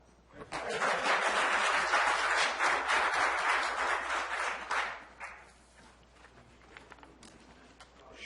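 Attendees at a county board of supervisors meeting clap after a presentation. A few seconds of fairly close, lively applause fade out to a quiet room with a few stray claps.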